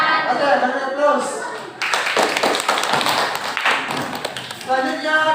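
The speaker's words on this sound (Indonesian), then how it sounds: "Oke, beri aplaus." A classroom audience breaks into brisk applause after a group presentation, many hands clapping densely for about three seconds, with a voice speaking before and after the clapping.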